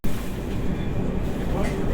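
Metro train running through an underground tunnel, a loud, steady low rumble and roar heard from inside the carriage.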